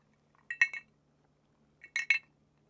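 Large clear ice cubes clinking in a cocktail glass holding a Rusty Nail, two short clusters of bright glassy clinks separated by a quiet pause, close and alone.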